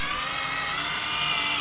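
A steady high-pitched whine of a power drill running continuously, close by, cutting off abruptly at the end.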